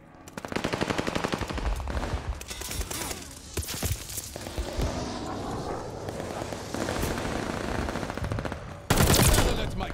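Bursts of automatic gunfire in a World War II style video game, rapid machine-gun rattles and sharp shots coming in waves, loud and close, with brief pauses between volleys.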